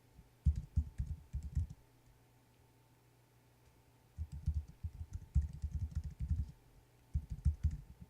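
Typing on a computer keyboard while working through online coding lessons, coming in three bursts of quick, soft clicking with quiet pauses between them.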